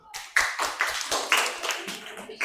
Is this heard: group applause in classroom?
yes